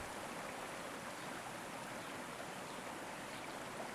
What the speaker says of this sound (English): The water sings its endless lullaby.